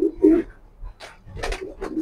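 Pigeons coo softly in short bursts with brief gaps between calls, from a loft holding a Kitel line pair and a Maxi racing pair.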